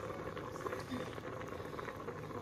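A pot of frijoles de la olla, beans simmering in water for about an hour, bubbling with a dense, steady, soft patter and gurgle close by, no speech.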